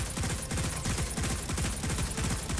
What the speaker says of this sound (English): But I'm going to just randomly shoot